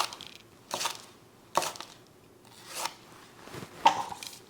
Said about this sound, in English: we're finally done chopping jalapenos